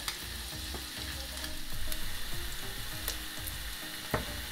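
Chopped onions sizzling in hot oil in a pan while pilaf with tomatoes is being made, a steady close crackle with occasional stirring scrapes and a few sharp pops, no voices.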